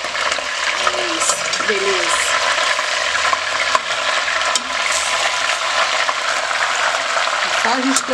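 Beef ribs frying in their own fat in a pan, a constant loud sizzle and crackle close up, with a few brief clinks and scrapes of stirring.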